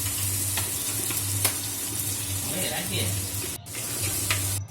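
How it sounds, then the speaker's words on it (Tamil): Finely chopped onions with curry leaves sizzle and fry in a pan for prawn curry, a steady close crackle with occasional stirring under a voice. "அது நல்லா பச்சை வாசனை போகிற வரைக்கும் நல்லா வறுத்து எடுத்துக்கலாம்."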